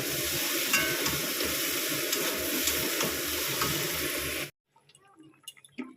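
Water poured into a pot of simmering soybean curry on a home stove, a steady loud hissing rush for several seconds that cuts off abruptly and leaves faint clinks and sizzles.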